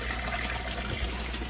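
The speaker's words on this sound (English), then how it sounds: "Plug is pumped in. Wow, water comes out fast, that's good, because we need to fill four tanks with this method." Water gushes steadily from a pump hose into clownfish rearing aquarium tanks, a constant rushing, bubbling flow at moderate loudness throughout.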